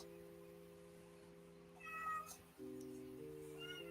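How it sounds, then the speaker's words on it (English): A pregnant cat close to giving birth gives one faint, plaintive meow partway through, set against a steady electrical hum in a quiet room. "She's crying because she's getting ready to have kittens."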